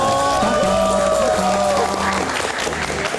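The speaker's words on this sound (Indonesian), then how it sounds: "Kita berikan tepuk tangan untuk Dono Kasino Indro." Audience applause at a live comedy show honoring the Indonesian comedy trio, a steady wash of clapping that carries on for about three seconds with musical tones ringing underneath, loud and close.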